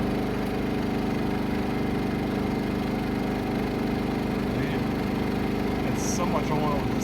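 An as-is clearance inverter generator engine runs steadily with oil in it, a loud, even droning hum with a constant low rumble and no break.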